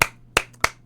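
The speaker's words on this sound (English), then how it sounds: "clapping for you" Four sharp, close hand claps ring out alone in a quick, slightly uneven rhythm, with brief silences between them.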